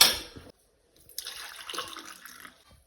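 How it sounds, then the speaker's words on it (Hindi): Cold water is poured into hot water outdoors, with a short splash, a pause, then a softer stretch of trickling and pouring lasting over a second, close by and fairly quiet. "तो गाइस फाइनली ठंडा पानी मिला दिया मैंने इसमें"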